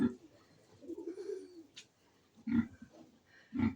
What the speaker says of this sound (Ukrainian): Ой, зайшла до голубчиків є. Є усі сидять.